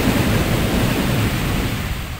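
Broad roaring whoosh of a dragon breathing fire in the Tomb Raider video game, loud and continuous, fading slightly toward the end, with no voice over it.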